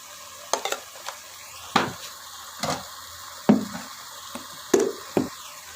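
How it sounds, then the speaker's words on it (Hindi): Minced meat for stuffed bitter gourds, mixed with green chili, garlic paste and turmeric, is stirred in a pan: about seven sharp scraping strokes over a faint, steady sizzle. "इसको भी हम अच्छी तरह से भून लेंगे।"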